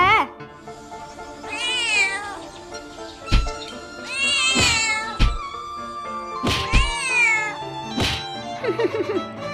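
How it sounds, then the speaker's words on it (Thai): Cartoon cat meowing and caterwauling in the Sakura School Simulator game, several drawn-out wailing yowls over a steady music bed, punctuated by sharp thumping hits. "อย่าอย่าเข้ามานะ ไอ้แมวผี"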